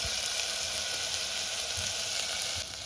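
Turmeric and red chili powder sizzle steadily in a hot pan of oil for moong dal khichdi. The frying hiss is close and even throughout, with no talking.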